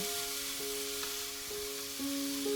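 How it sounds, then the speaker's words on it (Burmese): Spring roll wrappers for Chinese vegetable spring rolls fry in hot oil, giving a steady, close sizzle throughout, with a few sustained tonal whines layered over it. "ပေါက်တွေအယောင်ကြီးတဲ့အထိကြော်ပေးရမယ်"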